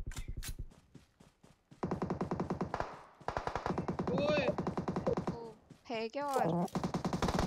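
Rapid automatic gunfire bursts in the mobile battle-royale game PUBG Mobile, loud repeated rattling volleys with short gaps between them, alongside excited talking from a player.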